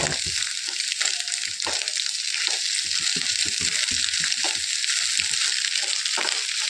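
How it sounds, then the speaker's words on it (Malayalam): Onion sautéing in a pan for a home-cooked Kerala meal: a steady, close sizzle of frying runs throughout, broken by scattered clicks and scrapes of stirring, with no talking. "ഒരു ഉള്ളി ഇട്ടിട്ട് വാട്ടിയിട്ട് ഇങ്ങനെ ചുറ്റി കൊടുത്തിട്ട്"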